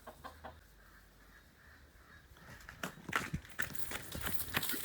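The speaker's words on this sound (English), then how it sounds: "there's a rooster out there" A rooster outside crowing and clucking, faint and distant at first, then a louder burst of calls in the second half over quiet outdoor ambience.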